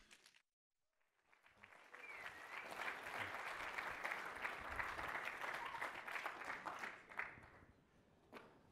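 An audience applauds to welcome a speaker to the stage at a NEO DevCon conference. The clapping swells quickly after a short silence and holds as a steady, dense roar before fading slightly at the end.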